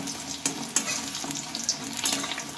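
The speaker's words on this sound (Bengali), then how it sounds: "আর বেশ লাল ভাবে এগুলো ভাজাও হয়ে যাচ্ছে" Bok flower pakoras frying in hot oil, a close, steady crackling sizzle that runs throughout with small popping bursts and no talk.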